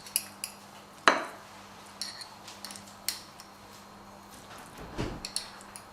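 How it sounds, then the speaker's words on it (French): Spoon scraping and clinking against small glass verrines while an avocado mixture is spooned in, a few sharp close clinks over a quiet kitchen background. "il suffit de remplir les verrines"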